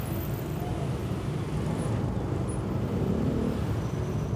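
Congested street traffic crawls through Cihampelas in Bandung, a continuous low rumble of engines and passing vehicles, with faint high squeaks drifting over the din.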